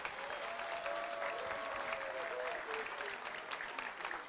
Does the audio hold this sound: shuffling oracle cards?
no